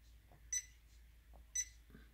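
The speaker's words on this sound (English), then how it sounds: "that's a beep each time you make a different selection for the" An Arduino Mega driving a Nextion 7-inch touchscreen gives short, high electronic beeps with each selection, two crisp chirps about a second apart over a faint steady hum.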